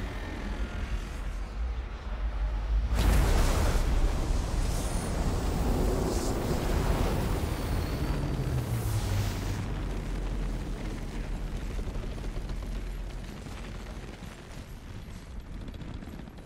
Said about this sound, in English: Oh, that's just the fire, okay.